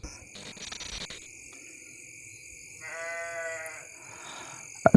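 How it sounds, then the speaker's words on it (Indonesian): Goat bleating near a village settlement, a short wavering harmonic call rising at mid-clip and sounding moderately close, with faint rustling and scattered clicks before it and no talking. "Terdengar juga suara kambing karena ini dekat pemukiman teman-teman."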